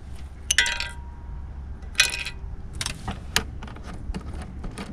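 Plastic hood pins are unscrewed on a 2019 Mustang GT, producing a few light clicks and plastic clinks in short bursts near the mic over a low background rumble.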